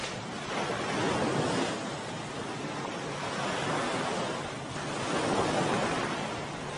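Ocean waves in darkness by the sea, a steady broadband wash of surf that swells and eases in slow, rolling surges, with no voices.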